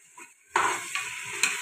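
Mint and coriander paste sautéing in a pan, a soft sizzle broken by scraping stir strokes, close and fairly loud.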